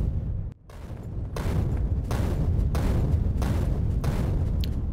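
Grenade blasts in the video game Factorio: a rapid run of loud, close booms and crackling detonations that overlap into a dense, sustained barrage with one brief dip near the start.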